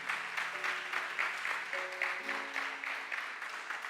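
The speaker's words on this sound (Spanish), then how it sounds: "Denle un aplauso a Cristo Jesús." Congregation applause during a church sermon, with steady, moderately quiet clapping from many people in a dense, rippling wash and faint sustained tones beneath it.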